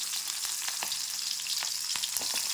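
Onion, tomato, dried red chilli, garlic and tamarind frying in hot oil, a steady close sizzle with occasional stirring clicks and pops, no voices.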